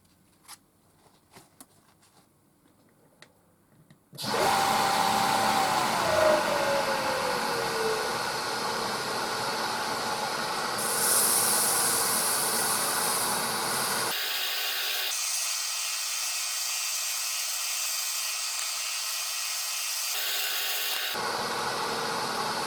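Abrasive paper sanding a spinning pen blank on a lathe, working down through the grits, a loud steady whirring hiss that starts abruptly after a quiet opening and shifts in tone a few times, close and alone.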